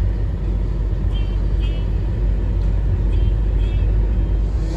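A car rolls through the town streets of Kemer, Antalya, with a steady low engine and road rumble throughout and faint background sounds.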